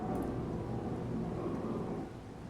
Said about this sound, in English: Still out in the rain, but that's just how it is.